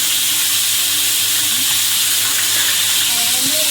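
Loud, steady sizzle of food frying in a pan in a home kitchen while a catla fish curry with potatoes and tomatoes is prepared; the hiss runs unbroken throughout, with faint clinks and stirring underneath and no speech.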